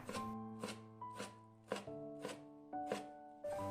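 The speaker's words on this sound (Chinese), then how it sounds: "挤好之后放在案板上，用刀给它切碎，尽量切得碎一点。" Knife chopping squeezed crown daisy greens on a cutting board, about eight sharp, evenly spaced chops with a faint ringing tone, close and quiet with nothing else around.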